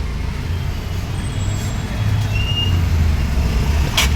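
Steady road traffic rumbles nearby on the old Mumbai–Pune road near a railway level crossing, engines droning and swelling as vehicles pass, with a short sharp hiss like an air brake near the end.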